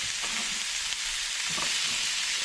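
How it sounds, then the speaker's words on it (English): Ingredients fry in bacon fat in a pan, giving a steady, fairly quiet crackling sizzle with faint stirring clatter and no talking. "Then I'm going to start adding my ingredients straight into the bacon fat."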